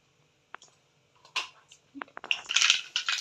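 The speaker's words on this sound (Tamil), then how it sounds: "கடுகு பொரிஞ்சிடுது" Mustard seeds spluttering in hot oil in a pan for a Tamil evening snack, uppu urundai: scattered sharp pops and crackles that thicken into a dense, close sizzling burst toward the end.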